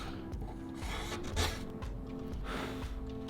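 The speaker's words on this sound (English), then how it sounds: "I just cleaned up the face cheeks with a chisel just to make them fit nice and snug in the mortises" A chisel paring the cheeks of wooden tenons, short close rasping scrapes against the wood in a few quick strokes, quiet and without talking.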